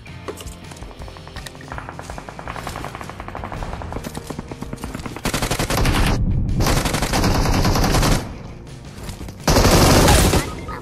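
Gunfire in the mobile game PUBG Mobile: dense, continuous automatic bursts that are loud and close, rising into heavier barrages toward the end. Other game sounds run underneath, and no speech comes through.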